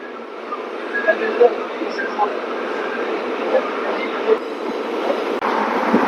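The Sri Ganganagar Intercity Express rumbles steadily along the tracks between Nabha and Dhuri at about 115 km/h, with a continuous low roar, occasional clanks and a faint voice in the background.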